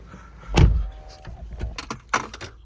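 The rear-hinged suicide door of a Rolls Royce Ghost closing softly, a single muffled thud followed by a faint mechanical whir and light clicks, close and quiet.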